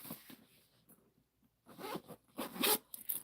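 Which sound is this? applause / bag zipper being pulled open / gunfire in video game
bag zipper being pulled open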